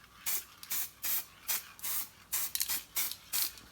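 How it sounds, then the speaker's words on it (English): Aerosol activator sprayed in a row of short hissing bursts over a glass table, about eight quick pulses with brief gaps, close and fairly quiet. "So I've got to just spray this."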